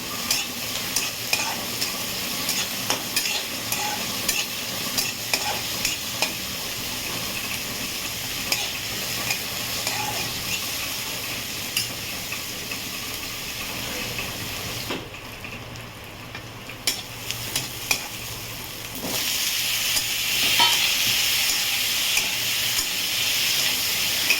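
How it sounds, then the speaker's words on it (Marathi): Steady crackling sizzle of fenugreek leaves frying in tempering oil, with occasional clinks of stirring and a brief quieter dip partway through. "भाजी घालते फोडणीला"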